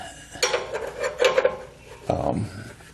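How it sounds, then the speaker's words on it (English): A wrench grinds and scrapes as it turns a stubborn parking brake cable bolt on a 1976 Corvette, close metallic rasping in several strained pulls, ending in a heavier clunk as it breaks loose. "the ability to put two hands on the wrench that I'm turning now"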